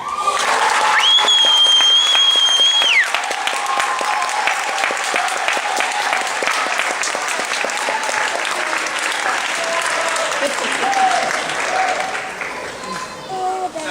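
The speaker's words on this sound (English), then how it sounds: "One more round of applause for our outstanding." A spring concert audience applauds an award winner with full, sustained clapping and scattered cheers, while a high whistle-like tone sounds briefly early on and voices murmur underneath.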